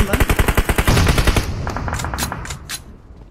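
Rapid machine-gun fire from a battle royale video game rattles loud and close in a quick rhythmic burst, then gives way to a few scattered separate shots.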